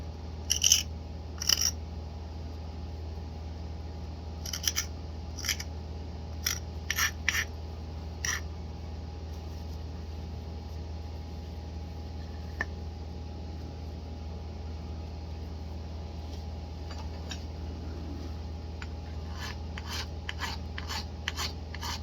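A file rasps against Wyoming quartzite being shaped into a wood punch, in short scattered bursts of scraping strokes with long quiet pauses between them, and a steady low hum runs underneath throughout.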